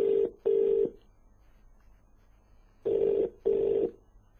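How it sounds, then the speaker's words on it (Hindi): Ringback tone on a phone call to a PWD department office in Bahadurgarh: two pairs of steady, clear electronic bursts separated by a long quiet gap, close and alone with no talk. "उनको फिलहाल बेल जा रही है उनके पास"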